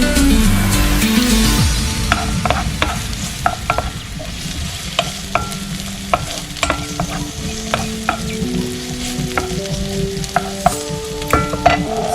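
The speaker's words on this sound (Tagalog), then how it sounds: "Okay, I'm gonna add oil now. Then, onion and garlic." Onion and garlic frying in hot oil for a creamy shrimp Alfredo pasta, with a steady close sizzle and sharp crackles and pops throughout, plus intermittent stirring scrapes of a utensil in the pan.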